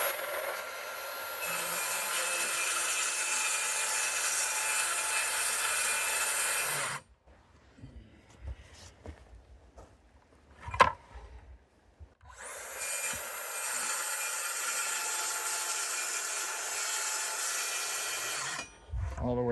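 Handsaw strokes cutting through a wood board for reframing a window in a Colorado A-frame cabin remodel, a steady rasping run for about seven seconds, a pause with faint knocks, then a second long stretch of sawing.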